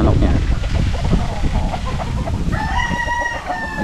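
Chickens cluck and mutter close by in a farmyard, and partway through a rooster lets out a loud, drawn-out crow; faint voices mix in the background.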